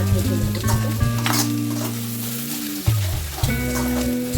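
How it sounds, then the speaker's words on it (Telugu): Chicken added to fried onions in a pan sizzles loudly and continuously at close range, with stirring scrapes on top and a steady tonal hum running underneath, and no talking. "ఉల్లిగడ్డ మంచిగా ఫ్రై అయినాక చికెన్ వేస్తాండి"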